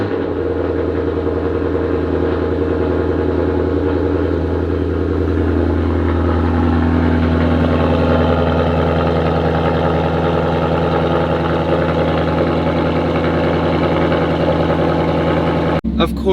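A 5.0 V8 car engine idles steadily with a deep, even rumble that holds at constant loudness close by, then cuts off abruptly near the end.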